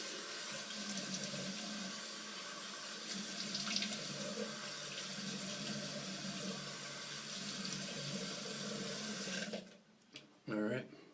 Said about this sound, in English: Hot rinse, and then I'm going to turn it to cold, and I'm going to do a cold rinse to close up those pores.